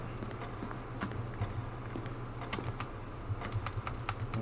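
Soft, quick clicking of a typewriter at the save point in Resident Evil 1, with scattered irregular keystrokes repeating over a steady low hum, no voices.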